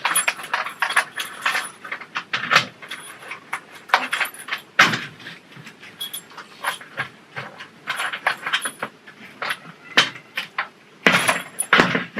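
Keys jangle and clink against a door handle fitted into a frame, with scattered sharp metallic rattles and taps close by, irregular and fairly loud.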